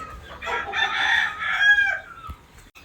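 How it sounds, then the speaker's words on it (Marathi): Free-range village chickens call close by: a drawn-out, crow-like cry rising and falling over about two seconds, with no talking. "आपण ह्या प्युअर गावठीच्या कोंबड्या आणल्या"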